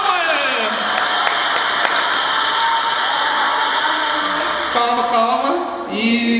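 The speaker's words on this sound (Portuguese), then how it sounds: "Palmas!" Steady, dense applause from an audience welcoming a guest at a church youth gathering, with a few sharper claps standing out and continuing throughout.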